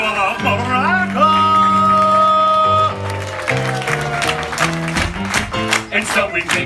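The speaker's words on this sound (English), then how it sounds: "can we please have a real round of applause for Princess Belle?" An audience at a Beauty and the Beast storytelling theatre show claps after music fades, a burst of scattered applause mixed with voices.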